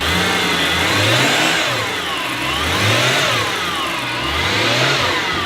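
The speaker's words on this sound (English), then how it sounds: "she does sound decent, but there is a slight whine coming from the front" A crash-damaged BMW M3 engine running close by, loud and steady with slow rising and falling revs, and a slight whine from the front of the engine carried over the engine note.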